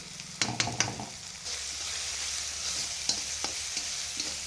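Onion, tomato and turmeric sizzle in a pan for goat brain egg burji, a steady close frying hiss broken by a few sharp stirring scrapes and clicks of a spoon.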